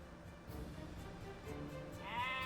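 A sheep in Age of Empires II gives a single clear bleat near the end, rising over a faint, steady game background hum.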